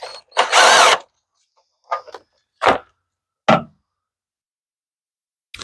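A power tool loosens a 10 millimeter bolt on a 2013-2016 Dodge Dart during an engine and transmission swap. There is one longer close whirring burst, then several short sharp bursts spaced apart, with silence between them and no talking.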